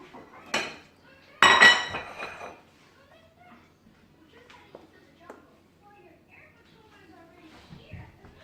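Plates and cutlery clink as creamy risotto is spooned onto plates in a cooking competition kitchen, two sharp bright clatters up front followed by softer scattered taps and scrapes, close by, with faint voices in the background.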